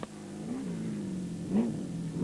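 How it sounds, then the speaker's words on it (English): A Porter PR1 race car with a 7-litre engine at the Magalies 400 2008, a deep, fairly close engine drone that rises in a short rev near the end. "Siegfried Rousseau just 7 seconds behind them in their Total Motorsport Porter PR1 with its rather large 7-litre engine, but they battled with brake failure."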